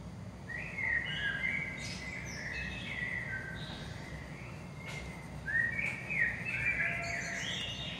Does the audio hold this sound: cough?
no